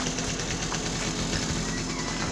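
A Vespa scooter's engine revving close by after six months standing unused, a steady, loud mechanical drone with a rough, pulsing low end and no voices.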